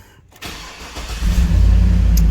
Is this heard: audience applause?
no